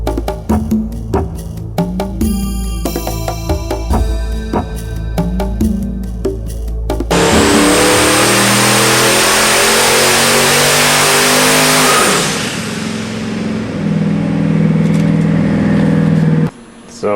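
Nelson Racing high-horsepower boosted engine, around 1,490 horsepower at about 28 pounds of boost, idling with a lumpy mechanical burble, then revving hard into a loud sustained roar that winds down and settles before cutting off.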